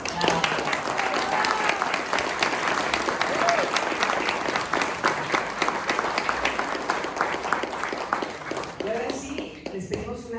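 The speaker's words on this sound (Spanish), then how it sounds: "Que se vea fuerte el aplauso." Sustained audience applause in a large gathering in Tlaxcala, a thick, even wash of clapping that holds for about ten seconds before thinning out, with voices faintly audible beneath.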